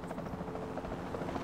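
Capture Team helicopter in the video game Jurassic World Evolution 2 gives a steady, rapid rotor thrum, close and continuous, with no talk over it.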